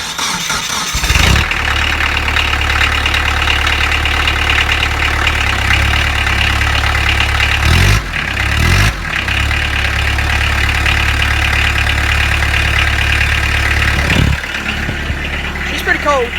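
A small Kubota 3-cylinder diesel tractor engine idles roughly after a cold start, a loud, knocking chug with a couple of brief bursts in the middle before it settles back to an uneven idle.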